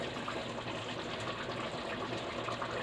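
Vinegar poured into a pot of chicken biryani being cooked, a soft, steady liquid trickle that runs quietly and unbroken for a few seconds.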